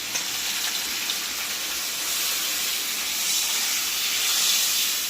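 Steady, loud hissing sizzle as water is poured into hot oil in a wok with fish, a broad continuous spitting noise that holds for several seconds and swells slightly toward the end.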